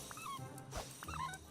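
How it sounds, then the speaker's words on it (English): High, whining squeaks like a rubber dog toy come from Disney Dreamlight Valley gameplay: two short squeaky bursts separated by a brief pause, faint and close, with no talking. "Sorry for the like dog toy sounds."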